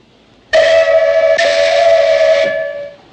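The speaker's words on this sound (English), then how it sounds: "if something gets in our way, we just blow the whistle." A loud, close whistle sounds from a hot-air balloon in a 1962 film: one steady, shrill multi-toned blast lasting over two seconds, with a slight shift partway through, before it fades out.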